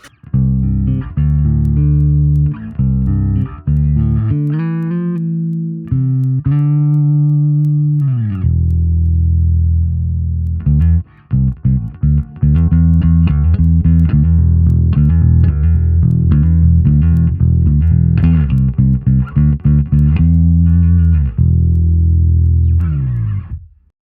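A clean bass guitar through a simulated Ampeg SVT-4 Pro amp plays a melodic line with round, deep low notes, pausing partway through before continuing with busier, more rhythmic playing.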